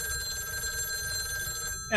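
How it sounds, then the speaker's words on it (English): A telephone bell rings steadily in an audio play, a continuous bright metallic trill lasting the whole moment before a voice breaks in at the end. "answer the phone, please"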